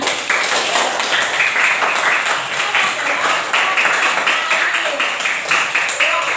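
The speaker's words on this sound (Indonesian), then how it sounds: "Iya, tepuk tangan." Rhythmic group clapping in a classroom lesson, steady repeated claps in unison, close and fairly loud, with voices mixed in.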